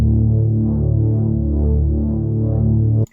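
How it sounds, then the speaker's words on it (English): A thick, sustained Reese bass from the Serum synth holds a deep, buzzing drone for about three seconds, its tone slowly swelling and breathing as an LFO gently moves the filter cutoff, loud and alone before stopping abruptly. "we can add on this LFO1 to the cutoff and modulate it very, very slightly"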